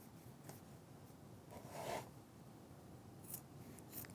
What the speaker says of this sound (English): I'm just going to trim those away.